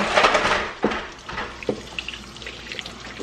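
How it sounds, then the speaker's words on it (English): Medium-temperature tap water runs into a kitchen sink as trout are rinsed of slime, a steady close splash with a few sharper knocks and trickles, no voices. "you just have to rinse the slime off of these trout"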